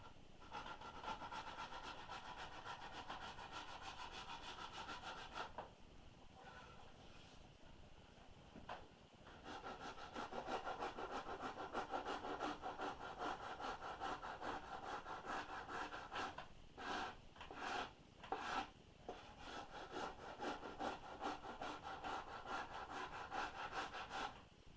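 Steady scraping and rasping of a carving tool trimming the shear line along a wooden boat half hull model, continuous close work with a few brief pauses and sharper strokes near the end, no voices.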